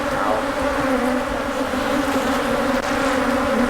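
A loud, dense, continuous drone of many agitated honeybees swarms around an open hive during an inspection, close and unbroken throughout.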